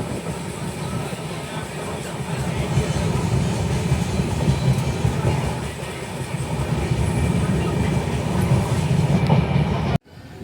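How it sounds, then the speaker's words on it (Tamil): Humsafar Express train rolling toward Renigunta after hill tunnels, a steady loud rumble of wheels and carriages with faint rhythmic clatter throughout, cutting off abruptly at the end. "ட்ரெயின் ரேணிகுண்டா வந்துருச்சுங்க"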